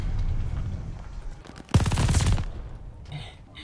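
MG42 machine gun in the shooter game Call of Duty: Vanguard, a loud close rapid burst lasting under a second that cuts off into quieter game ambience, with no talking.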